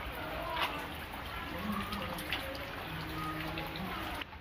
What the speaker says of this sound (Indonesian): lagi hujan.